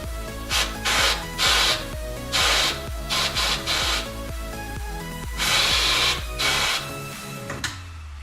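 Scrubbing or brushing at a car horn's electrical connector during a DIY horn swap, heard as loud repeated rasping bursts in an uneven rhythm, close up, with no talking.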